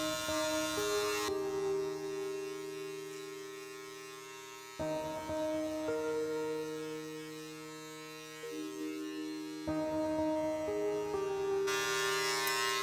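Electric hair clippers with a number 2 guard buzz steadily while cutting an undercut, the motor's pitch shifting slightly as they press into hair and pause, a close, continuous hum with no talking.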